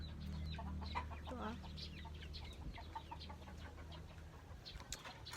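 Chickens cluck and crow softly in the background over steady low rumbling ambience, with scattered bird calls throughout.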